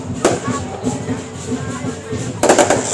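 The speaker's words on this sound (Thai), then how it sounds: "ตอนนี้จุดพลุกันสวยงาม" Fireworks crack and pop at a dragon parade in Nakhon Sawan in 2024, with a sharp burst early and a quick cluster of bangs at the end over a murmuring outdoor crowd.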